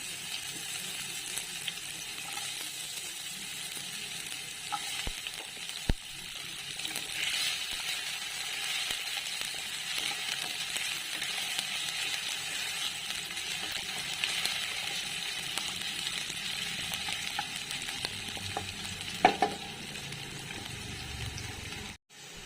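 Chopped potatoes fry in a pan for an Assamese home recipe, giving a steady, moderately loud sizzle with occasional clicks and stirring scrapes throughout.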